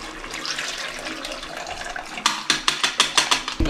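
Tamarind water pours into a pot of fish curry, a soft watery splash building to a series of sharp, rhythmic sloshes and clinks near the end, close up with no talking.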